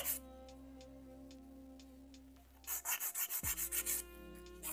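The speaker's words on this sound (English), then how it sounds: "how much can we file? We can file a little bit more." A nail file rasps against hard gel on a fingernail in a quick run of close, even back-and-forth strokes after a quiet stretch of faint ticking and hum, with no talking.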